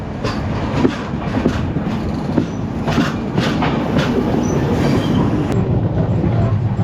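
A Mandovi Express train from Mumbai toward Sangameshwar runs along the tracks near Chiplun, its steady rumbling roll heard close up from on board, with faint clickety-clack wheel beats and a brief squeal over the continuous noise.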